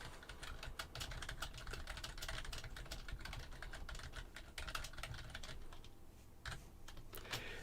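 Rapid, continuous typing on a computer keyboard, with dense irregular key clicks that carry on steadily with brief pauses, close and fairly quiet, with no talk over it.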